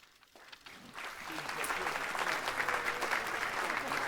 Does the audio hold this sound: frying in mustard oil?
no